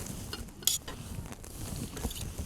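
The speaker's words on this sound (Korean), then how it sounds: "먼저 냄비에 고기를 넣어 주십니다" Meat going into a cooking pot at a Jeju campsite, soft knocks and a sizzling, scraping clatter with one sharp metallic clink, close and quiet with no talking.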